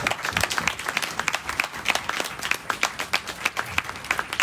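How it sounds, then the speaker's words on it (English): Audience applause at an Independence Day celebration at the High Commission of India in Singapore, a steady patter of many hands clapping at moderate level for the full stretch, individual claps audible, no talk. "Can we have a round of applause, please?"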